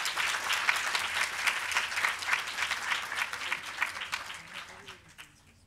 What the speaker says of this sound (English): Can we have a big round of applause for all our partners?